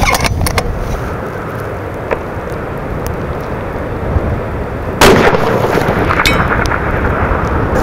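A .338 Lapua rifle fires once at a distant target on an outdoor range, a single sharp, loud blast halfway through with a rolling tail, preceded by quiet background noise and a few faint clicks.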